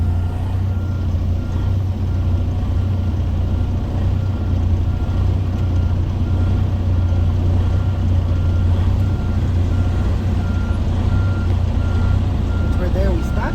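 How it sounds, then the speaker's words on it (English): A tractor-trailer truck backs up in a straight line, its reversing alarm beeping steadily over a loud, low idling diesel engine rumble, with a voice talking at times. "we're going to start straight line backing again"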